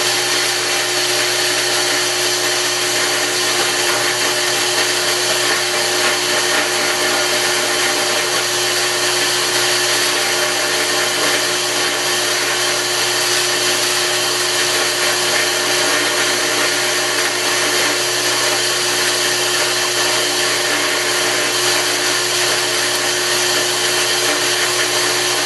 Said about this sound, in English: I'm ready to drill this next hole